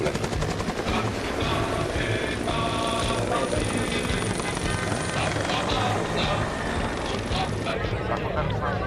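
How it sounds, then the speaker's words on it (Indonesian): Three army helicopters, AS-350 and Bo 105 types, fly in formation at a military combat training demonstration, producing a loud, continuous rotor roar with rapid chopping throughout and no speech. "Diawali oleh elemen 3 unit helikopter AS-350 dan Bolko 105."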